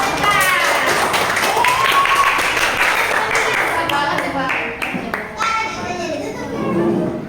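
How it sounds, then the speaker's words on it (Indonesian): A group of children clapping their hands together in a busy classroom, a steady burst of applause with chatter and lively voices mixed in. "Tepuk tangan dulu."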